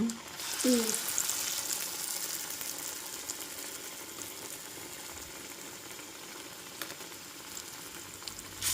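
Masoor dal bonda batter frying in hot oil gives a steady, soft sizzling hiss throughout, with a brief clink near the start and no talking.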